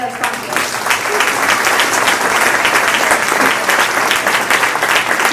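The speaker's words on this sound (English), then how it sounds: "So round of applause for our sponsors." Audience applause at an awards ceremony for an annual innovation celebration: sustained, dense clapping from a large crowd, steady and fairly loud throughout without any speech.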